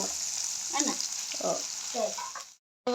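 Onions, garlic and spices fry in a pan with a soft, steady sizzle and a few stirring scrapes, fairly quiet and close, cutting out briefly near the end before returning.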